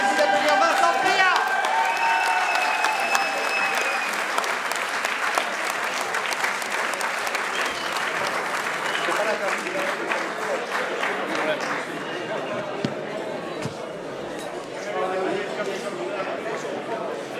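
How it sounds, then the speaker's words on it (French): An audience at a motorsport awards ceremony gives a long, loud round of applause for a winning driver, with crowd noise and murmuring mixed in as the clapping slowly fades. "Merci d'applaudir Vincent Priat."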